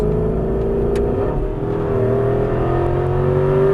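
An Aston Martin V8 Vantage S on a track pulls hard under throttle, a loud, steady engine drone rising gradually in pitch from inside the car, continuous and close with no talking.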